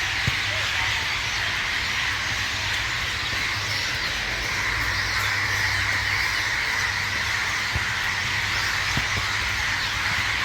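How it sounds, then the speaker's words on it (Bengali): At dusk, a dense, unbroken chorus of thousands of birds, including crow-like caws and squawks, fills the grounds of Dhaka Residential Model College. The sound is loud and continuous, with scattered sharper calls standing out. "পাখিদের কিচিরমিচির শব্দ"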